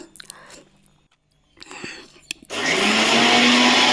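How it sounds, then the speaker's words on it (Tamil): A kitchen mixie jar grinding dry ingredients into fine powder starts up after a few faint clicks and rustles, then roars loudly and steadily as the motor whirs at full speed. "ஒரு மிக்சி ஜாரில் போட்டு இதை வந்து நல்லா வந்து பவுடர் பண்ணி நம்ம அரைச்சி எடுத்துகிட்டு வந்துடுவோம்"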